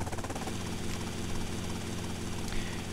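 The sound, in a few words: helicopter flying in the video game GTA: Vice City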